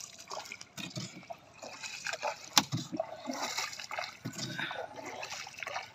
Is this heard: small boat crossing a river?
yes